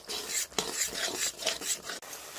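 Okra dopeyaja with sour yogurt is stirred and scraped in a pan, a close, continuous rasping and scraping with small clatters and no talking.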